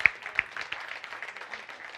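An audience at a stage event applauds with a soft, fairly distant patter of many hands clapping, steady and faint for the whole stretch.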